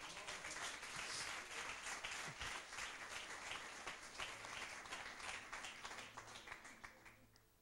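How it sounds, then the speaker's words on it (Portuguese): A church congregation applauds loudly during a sermon, dense clapping that thins into more distinct individual claps toward the end, with faint voices beneath. "aplauda o Senhor bem forte"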